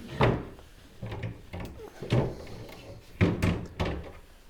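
A heavy MDF drawer on old-style keyboard drawer slides is opened and closed several times, with repeated hollow wooden thunks and rolling runner noise, close and fairly loud.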